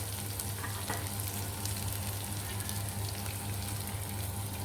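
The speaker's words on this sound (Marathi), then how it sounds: "याला पण चांगलं एक ते दोन मिनिट परतून घ्यायचं आहे" Ginger, garlic, chili and fennel seeds sautéing in oil for samosa filling, an even, continuous crackling sizzle close by, without speech.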